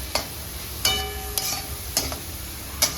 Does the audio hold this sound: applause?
no